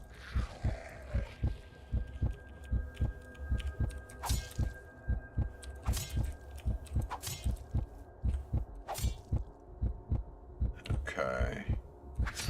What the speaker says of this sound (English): start hearing a heartbeat